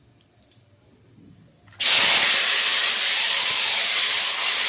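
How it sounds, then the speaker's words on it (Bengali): Potatoes and yardlong beans drop into a hot pan, setting off a sudden loud, steady steam hiss that starts partway through and holds at full strength until the end. "এবার বন্ধুরা আলু আর বটবটিটা দিয়ে দিচ্ছি"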